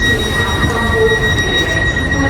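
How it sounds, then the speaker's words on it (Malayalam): A double-decker train in Switzerland runs steadily, heard from inside a carriage, with a continuous rumble and a high, sustained wheel squeal on the rails, and no voices. "അടിപൊളി ട്രെയിൻ കേട്ടോ. ഇതിൻ്റെ ഡബിൾ ഡെക്കർ."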